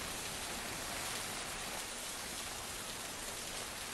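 Heavy monsoon rain pours steadily over the Chiplun area in the Konkan, a dense, even hiss filling the air without pause, loud and close with no voices.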